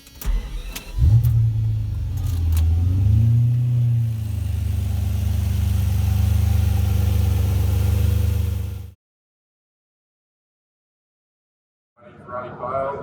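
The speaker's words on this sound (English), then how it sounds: "So now I'll try to start the car for you and give you a little listen." A red 1997 European-spec Ferrari 550 Maranello is cranked and fires up, its engine swelling into a loud, steady idle for about nine seconds before cutting to silence, then a faint rumble returns at the end.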